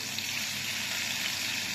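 Steady hiss and crackle of meat frying in a hot pan, continuous and fairly close, with no voices.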